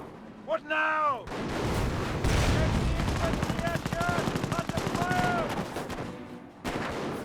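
Gunfire and artillery from the Company of Heroes 1 strategy game, dense rattling bursts and heavy booms rolling continuously, mixed with game voices and sounds and a commentator's talk.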